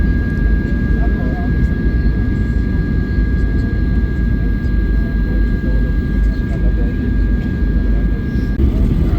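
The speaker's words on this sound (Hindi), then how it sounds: "लैंडिंग हो रहा है इधर" An airliner lands in Dubai, heard from inside the cabin as a loud, steady engine and air roar with a faint high whine, continuous throughout without clear breaks.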